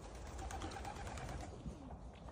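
Pigeons cooing and fluttering close by over a steady broadband hum, soft overlapping calls throughout.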